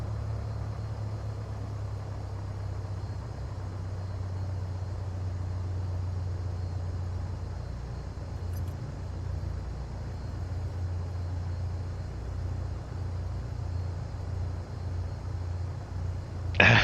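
A Piper Warrior II single-engine piston engine in a flight simulator hums steadily at a low, even drone throughout, ending with a brief sharp click.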